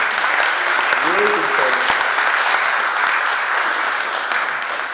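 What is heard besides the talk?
audience applause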